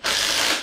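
A number 13 ratchet snugging bolts down firm during an AU XR8 347cc stroker engine install, one short close rapid clicking burst of the pawl.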